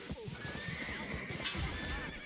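A horse in the online game Black Desert Online lets out a close, loud whinny over a rapid clip-clop of hooves, lasting about two seconds.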